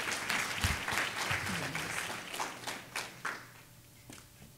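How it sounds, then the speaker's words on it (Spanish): An audience at a Mixtec cultural week event applauds to welcome a speaker to a talk, with moderate clapping that gradually thins into a few scattered claps. "la recibimos con un aplauso y le dejamos para su charla"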